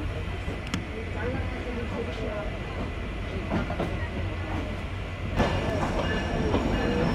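The KapotaKsha Express rolls along the rails after leaving Kotchandpur station, a loud continuous rumble with sharp wheel clicks and rattles. Voices are faintly present.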